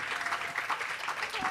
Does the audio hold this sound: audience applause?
yes